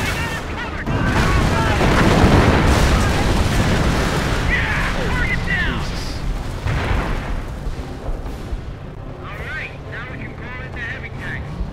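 Artillery fire in the video game Company of Heroes: deep, rumbling booms with a dense battle din. Someone talks over the noise throughout.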